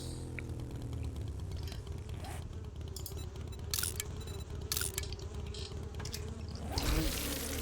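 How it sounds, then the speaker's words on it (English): Bees buzzing in the survival video game 7 Days to Die, a steady insect drone with faint clicks and game ambience, swelling briefly louder near the end. "Bees."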